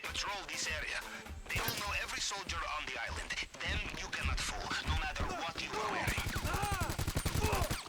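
Bursts of machine gun fire in GTA V Online, rapid automatic shots blended with game effects and a steady backdrop, with someone talking over much of the clip.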